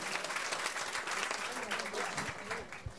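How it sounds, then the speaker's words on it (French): Applause from a comedy-show audience, a steady patter of many hands at moderate level running the whole time, with a voice briefly audible over it. "d'habitude, les gens applaudissent"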